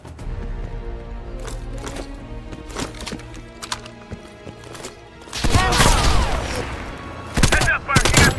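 Sniper and rifle fire in the video game Call of Duty Black Ops Cold War: scattered shots crack over a rumbling background, then dense loud bursts of gunfire near the end.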